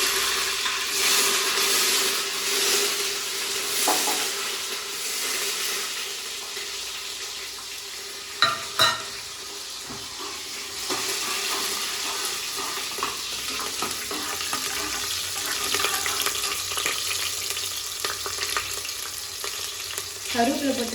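Cumin, chili, garlic and small shallots sizzle and fry in a pan with a continuous crackling hiss, close up, stirred now and then, with a sharp clank partway through and a faint voice underneath.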